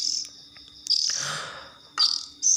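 Shrill, high chirps from a 13-day-old oriental magpie-robin (kacer) chick begging for food, coming in short loud bursts with brief pauses, close up and with no talking.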